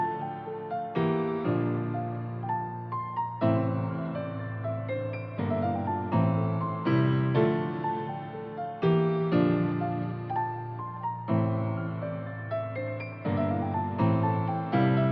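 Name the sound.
synth piano melody preset playing in FL Studio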